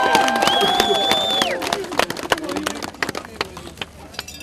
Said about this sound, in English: Please give all the players a round of applause for the efforts today.